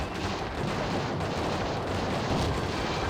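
Loud, dense barrage of booming cannon blasts and rattling gunfire from the video game Cossacks, blending into a continuous roar, no voices.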